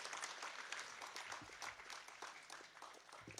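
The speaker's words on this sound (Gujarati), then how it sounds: "આપણે જોરદાર તાળીઓથી વધાવીએ." Applause for an honoree at a Chitrakut award ceremony, a dense, fairly distant wash of many hands clapping continuously and evenly, with nobody speaking.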